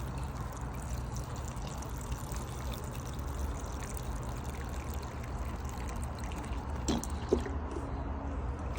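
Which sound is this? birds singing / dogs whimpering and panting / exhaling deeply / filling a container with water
filling a container with water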